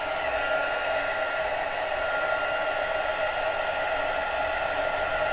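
A heat tool blows steadily while melting embossing powder on a craft board, a continuous close whooshing hiss like a hair dryer that holds an even level with no voices.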